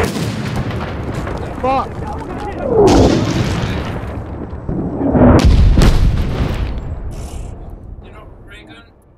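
Gunfire in the military shooter game Six Days in Fallujah, with bursts and heavy booming shots, some close and loud, clustered around a few moments amid continuous battle noise while players shout and talk over it.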